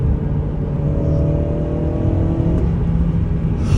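A Honda Civic FN2 Type R engine revs hard into VTEC, a loud close rising howl with steady harmonics climbing and then easing, heard alone without talk.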